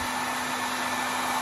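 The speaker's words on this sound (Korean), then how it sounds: "헤어드라이기로 양말 말리는 법입니다." A hair dryer blowing hot air on socks, a steady loud whirring hum with an even airy hiss throughout, close up and uninterrupted, no talking.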